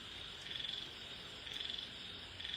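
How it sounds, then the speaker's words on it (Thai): Frogs croak steadily in falling rain, a rapid pulsing chorus that surges in short bursts about once a second, heard alone and moderately close. "ฟังเสียงกบเสียงอื่นเสียงเขียด"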